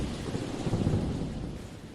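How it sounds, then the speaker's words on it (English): A thunderstorm at night, with heavy rain hissing steadily and a deep, dense thunder rumble that swells and then fades across the whole stretch. "It was a raining, thundering night."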